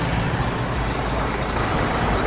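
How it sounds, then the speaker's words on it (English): Grader engine in a construction vehicle video game, a loud continuous low diesel rumble, steady and unbroken. "This is a grader."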